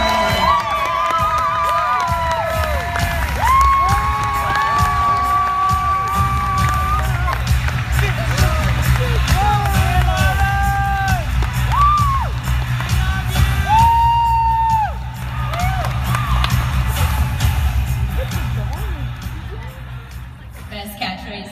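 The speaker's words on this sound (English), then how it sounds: "Big round of applause for Lauren." An audience at a presentation on stage claps and whoops steadily, with shouts and cheers rising over sustained close applause that eases near the end.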